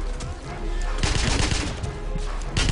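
Rapid machine-gun fire in a shooter game against Nazi enemies, with loud continuous rattling bursts and sharp impacts that surge in the middle and again at the end, and no voices.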